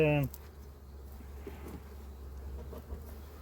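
Honeybees buzz faintly and steadily at an open hive while its frames are rearranged, with a short tonal chirp at the very start and no talk over it.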